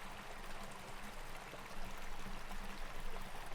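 Sea Canyon Creek, a feeder of San Luis Obispo Creek, flows in a steady, faint trickling stream that swells slightly midway, with no voices.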